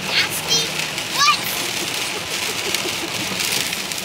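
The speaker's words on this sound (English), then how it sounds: "it is a rainy day in Atlanta today" Steady rain falls on a dark December morning in Atlanta, a constant close hiss and patter with a few faint splashes and no talk.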